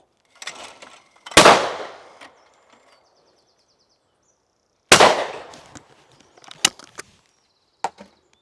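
Yildiz Pro Black sporting shotgun firing Express Supreme cartridges outdoors: two sharp, loud blasts a few seconds apart, each with a short echoing tail, followed by fainter clicks and knocks of the action.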